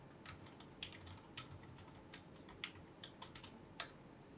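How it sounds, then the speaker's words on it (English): Quiet keystrokes on a computer keyboard while writing VBA code for a spreadsheet, irregular taps with short pauses between them, close but faint, with no voices. "I'm going to type a procedure."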